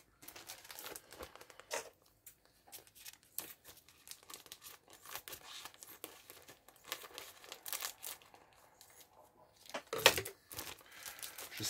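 Plastic bag around model kit sprues being torn open and unwrapped, a steady run of close crinkling and tearing rustles with one sharper rip near the end, no voices.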